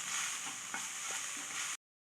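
Spiced masala for egg puffs sautéing in a pan, a steady close sizzle with faint stirring scrapes that cuts off abruptly.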